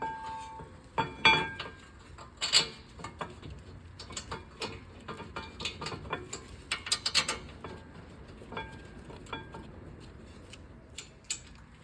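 A ratchet tightens the brake caliper frame bolts on a Ford Fusion, close and fairly quiet, with bursts of rapid metallic clicking and pauses between strokes.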